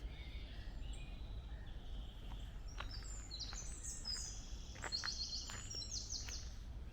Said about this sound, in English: distracted by the bird song.